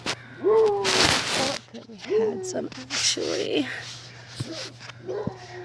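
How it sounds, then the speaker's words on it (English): Dogs barking and yipping behind talk in a home garden, several sharp barks and whiny yelps in quick bursts, fairly close, with a steady low hum underneath. "Sorry about the dogs in the background."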